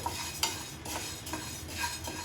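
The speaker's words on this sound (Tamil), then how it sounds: "நல்லா உளுத்தம்பருப்பு வறுத்துக்கோங்க" Black urad dal lentils rattle and scrape in a hot pan as they are roasted and stirred, with a soft sizzle and occasional clinks of a spoon, up close.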